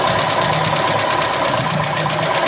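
Toyota Kijang carburetor engine idling while running too lean, a loud, close, rough rumble with a steady uneven knocking shake throughout.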